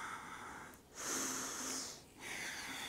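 Deep, slow breathing during a gentle full-body yoga stretch, with two long airy exhales and an inhale in between, close and steady with no talking.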